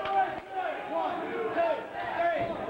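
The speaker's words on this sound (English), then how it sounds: "you can hear the crowd." Crowd chanting fills a wrestling arena during a match: rhythmic, tonal group chants repeat under a commentator's fast, continuous talk.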